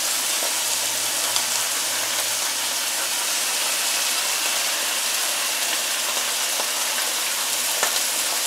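Beef, pork and bacon browning over medium-high heat in a pan, a steady broadband sizzle running unbroken throughout, close and fairly loud with no talking.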